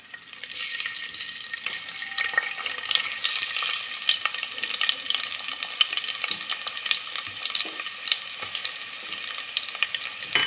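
Onions fry in oil for veg pulao with a steady, dense sizzle and crackle close by, interrupted by soft stirring scrapes, and no one talks.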